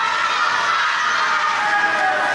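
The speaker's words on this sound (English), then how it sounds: "And the crowd here is screaming, "Let's go Skylark."" A wrestling crowd at a CCW Superstars of the Ring show screams and chants for Skylark, a dense, steady roar of many voices filling the arena without a break.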